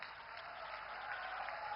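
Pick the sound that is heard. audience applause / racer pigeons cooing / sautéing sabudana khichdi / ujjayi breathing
audience applause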